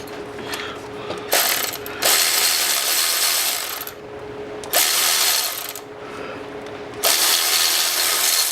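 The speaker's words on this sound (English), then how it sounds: "It's actually a 13 mil. Let's go ahead and get down in there." A hand ratchet with a 13 mm socket works a bolt loose on a Saab 9-3 2.0T engine. Bursts of rapid, close clicking come in three or four runs, with short pauses and softer fumbling between them.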